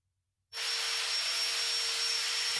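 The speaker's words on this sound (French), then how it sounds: "À l'atelier, allez souder des tubes en corniche en première passe." After a moment of silence, a root pass weld on fixed tubes with a vertical axis, welded in the horizontal position, starts abruptly as a steady, close, even hiss that holds constant to the end.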